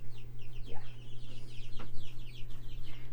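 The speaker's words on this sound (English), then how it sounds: "4 chicks are cheeping." Several baby chicks cheep close by, bright repeated peeps scattered across a few seconds over a constant low electrical hum.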